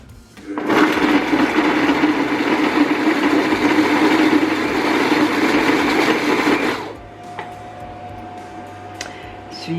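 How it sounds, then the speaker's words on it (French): A Cecotec Mambo Touch food processor chopping onions at speed 6 whirs loudly and steadily for about six seconds, then cuts off abruptly, leaving a faint electronic hum and quiet room sounds. "il va aller vitesse 6 pendant 6 secondes. C'est juste pour hacher les légumes"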